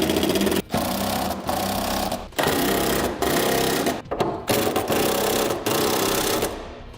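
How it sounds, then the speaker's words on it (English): Power tool driving bolts down on a Curt custom fifth wheel hitch installation kit, a loud continuous rattling impact buzz in several bursts with brief gaps between runs, close up. "Now we'll go ahead and tighten down the bolts."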